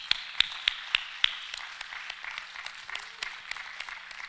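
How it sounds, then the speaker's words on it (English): Sparse applause from a church congregation at a family service: a few sharp, distinct claps up close at first, then a softer, quieter patter of clapping further back. "Can we applaud them?"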